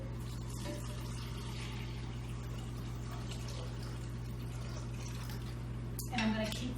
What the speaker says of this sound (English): I'm going to add about 6 cups of cold, fresh water